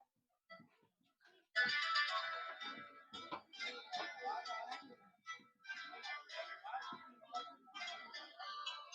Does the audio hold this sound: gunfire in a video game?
no